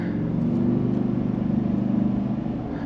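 Heard from inside the cab, a 2023 Ford F-250 XL FX4 pickup with a 6.8-liter V8 accelerates, giving a steady low engine drone that swells slightly, with no talking.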